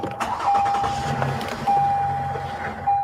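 A car engine turning over and catching after thieves programmed a key, a brief mechanical whir and start with a steady hum and faint electronic tones recurring, close by.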